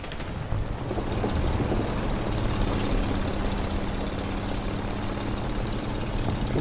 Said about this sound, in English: Uh-oh, got a plane on my butt.